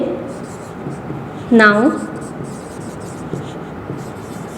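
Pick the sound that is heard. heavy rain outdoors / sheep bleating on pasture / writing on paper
writing on paper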